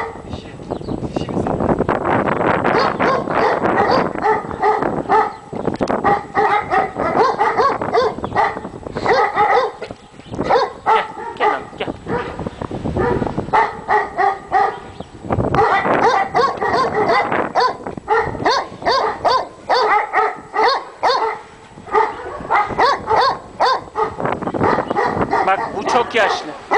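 Kangal and Akbaş dogs on a farm bark, yip and whimper in busy overlapping bursts throughout, close and loud, while people talk nearby.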